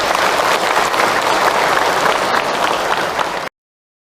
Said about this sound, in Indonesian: Tepuk tangan untuk Ahilman Ibu.